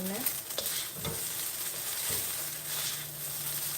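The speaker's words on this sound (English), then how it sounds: "I'm going to stir fry that in as well." Cabbage and other vegetables stir-fried in a hot pan for an egg roll in a bowl, with continuous sizzling broken by repeated scraping and tossing strokes of a utensil, close and alone.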